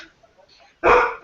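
A man imitates a dog with one loud, close vocal bark that bursts out after a stretch of quiet, faint background chatter.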